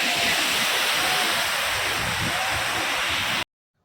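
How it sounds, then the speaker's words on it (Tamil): Kodiveri waterfall in Erode District, Tamil Nadu, pours down in a steady, loud, broadband roar that fills the scene without pause before cutting off abruptly near the end. "கொடிவேரி அருவி வந்து பார்த்திங்கன்னா நமக்கு முன்னாடி நல்லா ஆர்ப்பரித்து கொட்டுது"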